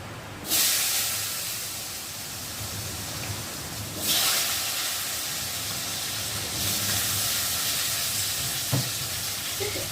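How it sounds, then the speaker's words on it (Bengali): Potatoes go into hot oil already tempered with bay leaf and cumin in a kadai for a silver carp curry, a loud hissing sizzle that surges as they hit the oil, surges again midway, then settles into a continuous fry. "আলুগুলো দিয়ে ভালো করে ভেজে নেব"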